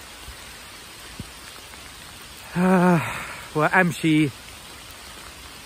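Heavy rain falling outdoors while someone walks, a steady broad hiss running throughout, with a voice speaking briefly over it.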